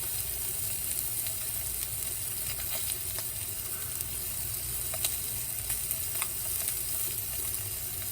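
A halved sirloin steak sears in a hot pan with a steady, dense sizzle and crackle, continuous and close throughout with small pops scattered through it and no talking.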